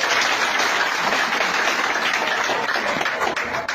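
Loud, sustained audience applause at a political speech in Côte d'Ivoire, a dense wash of clapping that runs steadily for a few seconds without a break.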